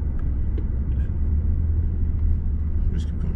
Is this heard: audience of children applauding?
no